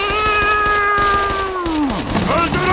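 A cartoon cat gives a loud, drawn-out meow that slides down in pitch at the end, set against busy chaotic background noise from a comedic animated scene.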